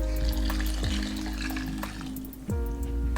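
Hot water poured into a pot of Trinidad vegan pelau with coconut milk, the liquid hissing and bubbling steadily against the hot pot as it fills, loud and close with no talking.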